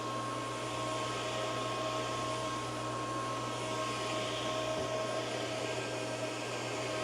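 A Roborock F25 Ultra wet-dry steam vacuum cleaner runs at full power, giving a loud, steady motor whine and airy suction roar with a constant hum underneath, close by and unbroken, with nobody talking.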